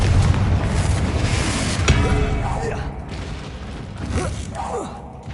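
A deep booming Confringo spell blast in Hogwarts Legacy, a rumbling explosion that rolls on with creaking debris and a second burst near the end, close and loud over the game's ambience.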